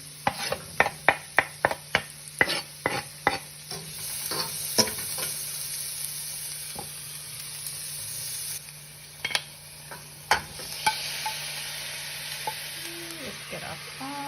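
Red onions, garlic scapes and scotch bonnet pepper fry in a pan: a quick burst of sharp utensil clacks from stirring opens over a steady sizzling hiss, and a few scattered knocks come later as the frying continues.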